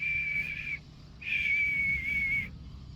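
A person whistling two clear, steady sustained notes, a short one followed by a longer held tone after a brief pause, close and alone with no talking.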